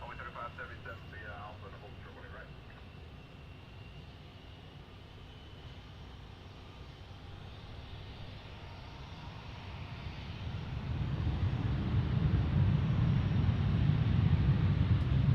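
An airliner on a daily flight to Haneda at DFW airport rumbles in the distance, its low engine roar rising steadily toward the end, with faint radio chatter and a voice talking over it.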